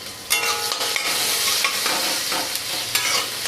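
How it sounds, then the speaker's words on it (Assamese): Onions and whole cumin frying in a pan are stirred steadily, a constant loud sizzle broken by repeated scraping strokes of the spoon, with no talking. "এতিয়া ভালদৰে লৰাই দিছোঁ।"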